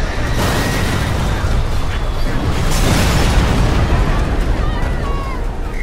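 A loud, sustained explosive roar with rumbling booms and crackling debris fills the scene, an explosion in the video game Prototype 2.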